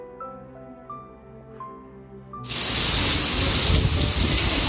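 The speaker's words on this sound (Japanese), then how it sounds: "すごい雷雨です。" Heavy thunderstorm rain after a typhoon: a few soft tonal notes, then a loud, steady downpour that roars up suddenly and continues close and dense to the end.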